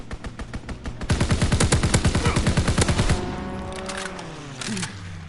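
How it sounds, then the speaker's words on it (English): An enemy strafing run in Call of Duty WWII multiplayer unleashes a long, loud burst of rapid machine-gun fire, each round close and sharp, before the firing stops and a fainter descending whine trails off. "Enemy strafing run inbound."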